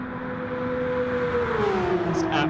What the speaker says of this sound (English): Let's just listen to the engine revs